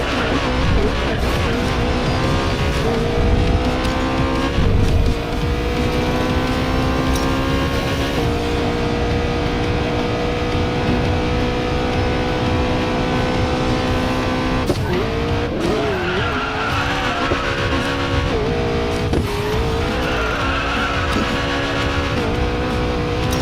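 In the Racing Master video game, a McLaren P1 race car's engine drones and whines at shifting pitch, with skidding tire squeals rising in short bursts, loud and continuous with no talking.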